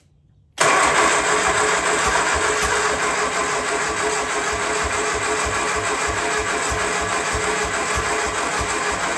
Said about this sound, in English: We'll give it one more try and we'll put the charger on it because it is cranking really slowly